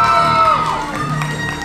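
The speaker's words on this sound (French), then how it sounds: "On peut l'applaudir." A crowd at a cosplay contest cheers and claps for the winner, with whoops and shouts over a loud stage sound system playing sustained tones, lively and close.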